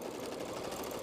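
A sewing machine running a short top stitch, a quiet continuous mechanical whir heard close up for about a second with no talking.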